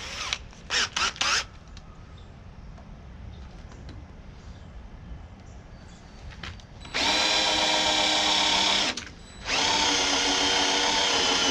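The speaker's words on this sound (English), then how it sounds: "It's much safer for me to have a drill that stalls, because I stall a lot of drills." A power drill boring holes for trailer guide poles: a few short trigger bursts at the start, a long low rumble of strain, then two sustained loud high-speed runs separated by a brief pause, close to the microphone.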